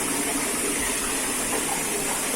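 A Miele WS 5191 EL washing machine draining, giving a steady broadband rush of water flowing out, even and continuous at close range with no talk.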